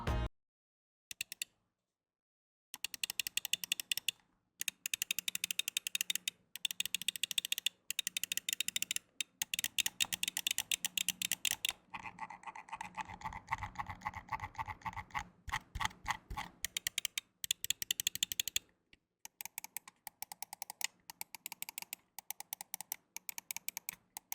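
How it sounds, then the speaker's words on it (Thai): A Razer Viper V2 Pro wireless gaming mouse clicks repeatedly up close, crisp rapid bursts of sharp ticks in dense runs separated by brief silent pauses, with no talking. "ทีนี้เพื่อนๆหลายคนคงอยากจะได้ยินเสียงคลิกเมาส์ จัดไปครับ"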